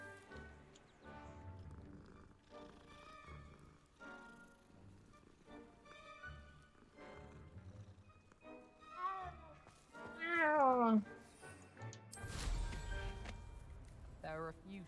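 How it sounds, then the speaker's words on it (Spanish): A cat meows in the video game Hogwarts Legacy, a brief rising-falling cry partly under ongoing talk and game music, followed by a loud burst of noise. "Gatito."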